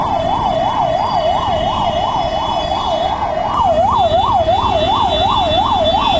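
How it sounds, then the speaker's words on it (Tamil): A wailing ambulance siren cycles steadily up and down, loud and close, over the low rumble of idling traffic in a Bengaluru traffic jam. "ஆம்புலன்ஸ் இங்கே பின்னாடி தான் இருக்குது."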